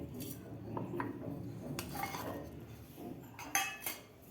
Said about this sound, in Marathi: आता आपल्याला हे खलबत्त्यामध्ये जाडसर कुटून घ्यायचं आहे